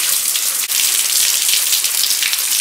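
Heavy torrential downpour during wet-weather motorcycle riding, a dense steady roar of rain pounding surfaces, loud and close throughout with one brief dip, no voices.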